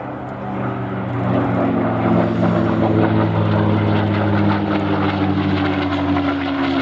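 Continuous loud drone of a Rolls-Royce-powered P-51D Mustang propeller fighter during an air festival display, a steady engine roar that rises slightly in the first second and holds near and full throughout.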